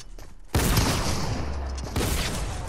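Gunfire in the video game Fortnite, a loud burst of rapid shots after a brief quiet start, continuing almost without pause to the end.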